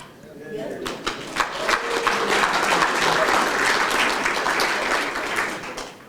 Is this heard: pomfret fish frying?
no